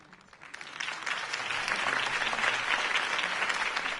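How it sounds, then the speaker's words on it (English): A crowd applauds steadily, the clapping swelling quickly from a few hands into a dense, sustained ovation. "could have heard that applause"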